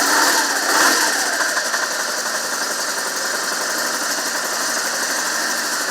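A BMW engine, turned over after air got into its fuel line, runs at a slightly raised idle with a steady, rough, shaking drone and faint knocking, loud and close throughout.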